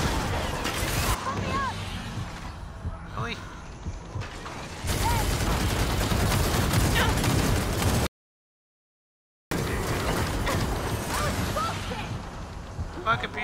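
Minigun firing in the video game Gears of War 4, dense rapid bursts of gunfire mixed with crashes and mechanical clatter, loud and chaotic, with players talking over it and one sudden dropout of silence.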